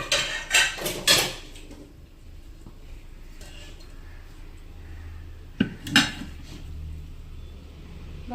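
Clanks and scrapes of a utensil against a hot pan as a rice bhakri is flipped, a few sharp metallic knocks near the start and again later, with quiet background between.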